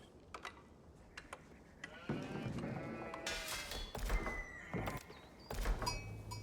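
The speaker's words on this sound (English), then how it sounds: "There was a sheep there, I think I saw." Sheep in the video game Age of Empires 4 let out a few clear bleats, mixed with soft thunks and other in-game effects, moderately loud and without talk.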